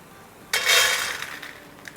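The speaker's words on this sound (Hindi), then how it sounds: "जब मैं निकालूंगी ना बर्तन में आपको आवाज़ सुनाई देगी कि क्रिस्पी है" Crispy fried boondi for motichoor laddoos is tipped into a metal vessel, giving a sudden bright clinking, rattling burst that fades into lighter scattered clinks.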